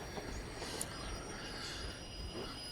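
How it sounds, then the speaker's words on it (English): A train speeding along the tracks in the Metro Exodus video game, a continuous rumbling rush of wheels with faint squeals, steady and moderately loud with no talking. "that train's going at a pretty healthy speed"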